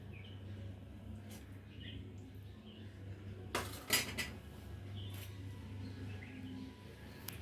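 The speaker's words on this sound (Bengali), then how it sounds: "এখন নেব, এখানে আসবে না, লাউ ঘন্টটা নিয়ে নিচ্ছি।" Serving spoon clinking against a plate as bottle gourd curry is dished out, a brief cluster of close metallic taps in the middle of a quiet room hum.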